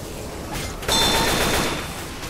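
Gunfire in a multiplayer shooter game: a short burst of loud rapid shots breaks out about a second in, with a metallic ringing tail trailing off afterward.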